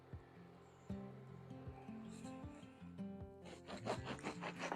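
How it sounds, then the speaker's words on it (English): A knife saws back and forth through a loaf of bread in a home kitchen, a soft rhythmic rasping and scraping that runs throughout, close and quiet with no talk. "When I'm cutting the bread,"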